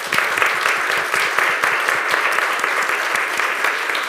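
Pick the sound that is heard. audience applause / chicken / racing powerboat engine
audience applause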